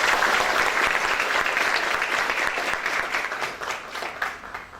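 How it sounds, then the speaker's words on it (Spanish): Audience applause at a Peruvian defense symposium, steady dense clapping from a crowd filling the hall, gradually thinning toward the end with no talk over it. "A ellos nuestro aplauso y les cedemos la palabra."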